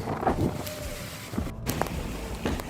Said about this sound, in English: Except for the wind.